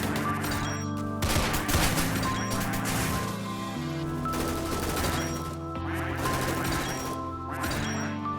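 Rapid automatic gunfire from a custom-built weapon in a shooter video game, firing in dense sustained bursts with a quick fire rate and brief pauses between volleys, loud and close.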